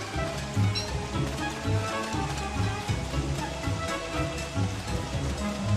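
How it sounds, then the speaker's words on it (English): Steady, dense rainfall in a video game patters continuously on surfaces, an even wash of drops with no voices. "Why is it still raining?"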